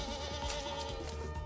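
Goats on a family goat farm bleat faintly and tremble over a soft, steady background with no talking.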